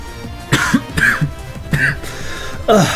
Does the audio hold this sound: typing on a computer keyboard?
no